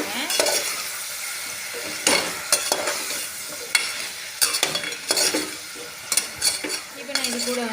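Vegetables and tomatoes for sambar are stirred in a hot cooking pot, with loud repeated scraping strokes against the metal over a continuous sizzle.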